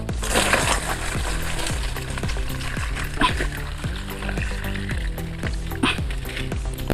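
Hot water splashes and pours over crabs in a kitchen during preparation of an Odia crab dish, a steady loud wash of liquid with a rhythmic thumping underneath throughout.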